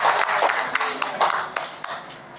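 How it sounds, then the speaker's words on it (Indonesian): Audience at a parenting Q&A session on children with special needs clapping for a mother, a short burst of irregular, fairly close hand claps with distinct individual strikes and some background voices. "Tepuk tangan untuk ibu."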